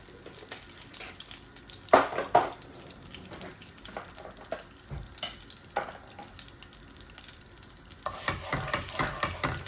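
Dry spices, fennel and fenugreek, sizzle in hot oil in a pan, mixed with a few sharp scrapes and clatters of stirring, moderately loud and close.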